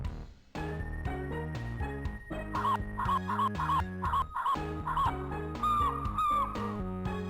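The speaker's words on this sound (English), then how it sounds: "Getting screamed at by a demon rooster comes out of a cauldron." A demon rooster in the video game The Saboten Man shrieks in repeated wavering cries over a loud, busy game music track, the calls rising and falling across several seconds.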